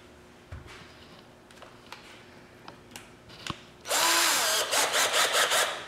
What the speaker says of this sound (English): you're going to drill 2 holes